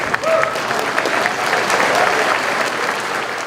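Warm, dense applause in the Louisiana House chamber greets the governor, loud and continuous from a large crowd, with a few voices rising faintly through it.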